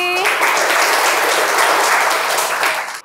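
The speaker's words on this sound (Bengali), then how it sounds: "হাততালি" A room of schoolboys breaks into loud, close applause after a correct quiz answer, a dense even burst of clapping that stops abruptly at the end.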